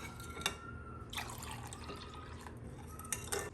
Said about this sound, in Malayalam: ഒരു 200 ml നല്ല തിളച്ച വെള്ളം ഒഴിക്കുക